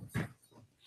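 A dog gives a single short, faint whimper up close, a brief soft yelp followed by quiet breathy noise.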